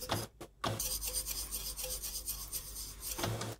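Water poured into a kettle, used as a riser in a homemade beat, gives a steady broadband hiss with rhythmic pulsing after a couple of brief gaps near the start, loud and close with no talking.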